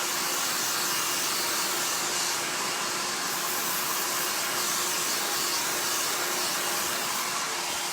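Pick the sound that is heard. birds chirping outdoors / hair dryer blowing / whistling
hair dryer blowing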